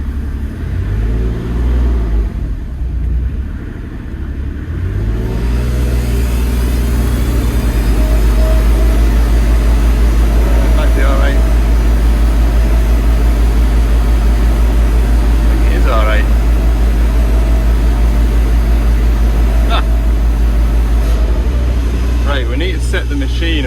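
A flail mower's engine revs up to a loud, steady low roar that holds close by, with voices speaking over it.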